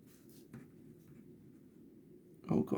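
A pen scratches across paper in short strokes during a chemistry lesson on titration calculations, soft and close, ending in a louder rustle.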